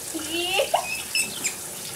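Hot water pours steadily from a tap into a sink while a person talks over the running stream.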